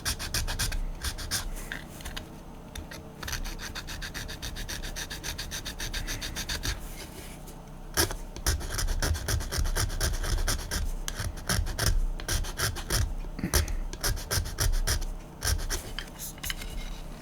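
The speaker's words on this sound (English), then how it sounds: "then I need to sand them out" Steady rasping strokes of sandpaper against old Star Trek plastic model kit parts, smoothing down sprue attachment marks, continuous and close with rhythmic bursts growing busier partway through.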